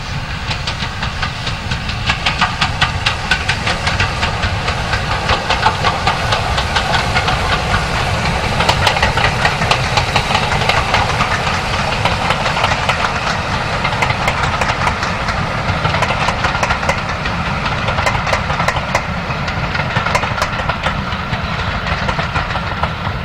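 The steam locomotive Sir Archibald Sinclair climbs Freshfield Bank on the Bluebell line, hauling a private special, with a loud, continuous chuffing exhaust beat and steady hissing roar throughout.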